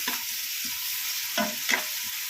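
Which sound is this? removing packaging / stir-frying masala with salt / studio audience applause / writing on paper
stir-frying masala with salt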